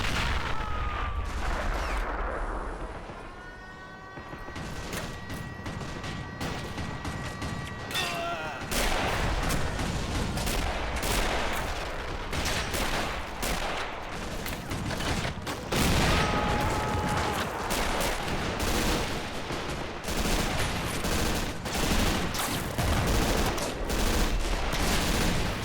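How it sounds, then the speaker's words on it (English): A video game battle from a German naval invasion of Crimea, an amphibious beach assault, fills with dense, continuous gunfire: rapid machine-gun bursts, scattered rifle shots and heavier booms, loud and unbroken throughout. "Oh, bullets landing everywhere. I think those are friendly rounds."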